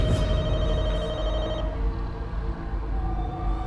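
A telephone rings inside the zombie-survival game The Walking Dead: Michonne, its steady electronic tone sounding over a low, dark ambient drone, with a faint tonal shift partway through.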